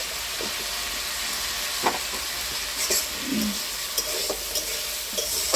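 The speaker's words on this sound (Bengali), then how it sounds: "আলুটা আমি বেশ ভালোভাবে ভেজে নিয়েছি, একটু নরম করেই ভেজে নিয়েছি" Potatoes fried soft with salt and turmeric sizzle steadily in a pan, with scraping stirs and brief clinks of the spoon cutting through the hiss, close and alone.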